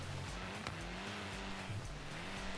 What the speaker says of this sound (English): What you're seeing here is the new Mountain Descent mode, where you get to drive Ken Block's Ford Focus RS RX Gymkhana car.